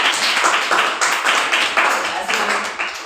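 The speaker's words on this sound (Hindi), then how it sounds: "तालियां बजाओ" Students in a class clap together, with several sharp bursts of applause landing in a quick, uneven rhythm. The clapping is close and loud, and it carries on for a few seconds with no talk over it.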